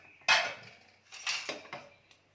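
A pressure cooker of millet khichdi is opened once its pressure has dropped, giving a sharp metallic clank of the lid followed by a few lighter metal knocks and scrapes, close up with no talk.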